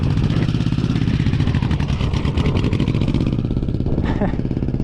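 A Honda Shadow VT1100c motorcycle ridden slowly in first gear while practicing turns, its loud, close engine rumbling steadily with slight revving, with people talking over it.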